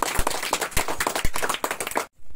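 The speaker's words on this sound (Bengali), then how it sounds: "পৃথার জন্য একটা জোরে হাততালি" Audience clapping for a child at a community social responsibility event in a village, a burst of claps with sharp rhythmic hits lasting about two seconds before stopping abruptly.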